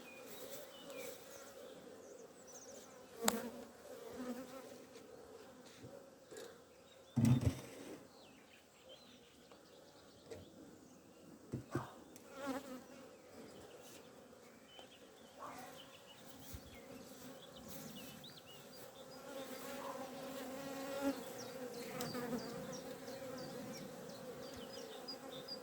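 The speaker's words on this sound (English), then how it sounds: "Now the bees are starting to go in with pollen." Honey bees buzzing at a hive entrance in an Irish apiary in April, a faint steady hum of many insects with scattered closer passes and occasional distant birdsong.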